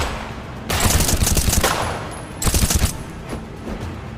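Rapid bursts of automatic gunfire from the video game Battleglide, a long volley followed by a shorter one, loud and close with no talking.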